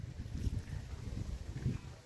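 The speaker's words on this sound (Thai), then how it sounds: "ลมกระพัดมานี่เลย" Wind gusts across the microphone outdoors, a low rumbling buffet that swells and dips continuously for a couple of seconds.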